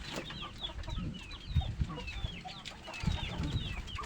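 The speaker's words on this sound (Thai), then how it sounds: "นี่ขอไก่แบบพื้นบ้านพื้นบ้านเลยนี่" Native free-range chickens cluck steadily in a rural garden, several birds calling close by over low rustling, with no voices.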